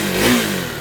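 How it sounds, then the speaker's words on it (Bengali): A 2026 KTM Duke 250 motorcycle exhaust gives one short, loud rev that rises and then eases within a second, close to the microphone. "আর এক্সস্টের সাউন্ডটা প্রথমে আমি আপনাদেরকে শুনিয়ে দিচ্ছি"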